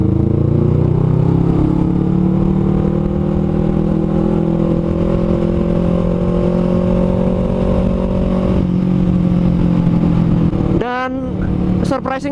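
Honda CMX500 Rebel motorcycle engine on a test ride, a loud close steady drone that holds a constant pitch for several seconds before dropping off, with a voice briefly heard near the end.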